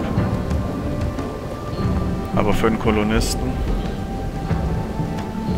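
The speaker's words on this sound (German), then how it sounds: "Toll, es regnet auch noch." Steady rain with rolling thunder in the colony-building video game RimWorld hisses throughout, and someone speaks briefly in German over a swell of thunder in the middle.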